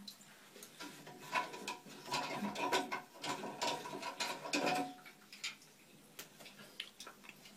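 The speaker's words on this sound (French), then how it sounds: "il reste donc juste le système d'arrêt d'eau qui est là, qu'on va lui aussi dévisser à la main" A toilet cistern's water shut-off valve is unscrewed by hand, producing a close, quiet run of ratcheting clicks and plastic grinding in irregular bursts before it settles near the end.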